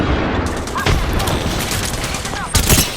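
Video game gunfire crackles in rapid bursts with heavy booms, loud and close, while a player's voice is heard speaking over the shooting.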